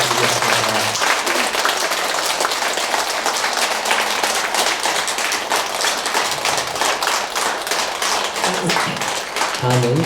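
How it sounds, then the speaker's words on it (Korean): Sustained applause from a standing congregation at a Buddhist Dharma service, dense steady clapping filling the whole stretch at a loud, even level. "도움을 내신 큰 스님께 다시금 감사의 박수 부탁드리겠습니다"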